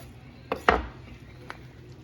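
A knife cuts through a grilled avocado toast cheese sandwich on a board: two close, firm crunching thuds followed by a lighter tap, then quiet.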